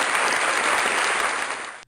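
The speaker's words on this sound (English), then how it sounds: "we need clapping hands" A short, loud burst of canned applause played as a sound effect on a morning radio show, dense and bright, cutting off abruptly at the end.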